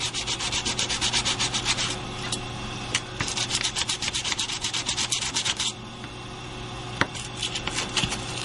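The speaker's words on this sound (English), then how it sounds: "I kind of like to just rough up a little bit. And this is just the Tim Holtz sandpaper thing." Sandpaper rubbed back and forth across a domino's surface to rough it up, a close, continuous scratchy sanding in quick repeated strokes with brief pauses, no talking.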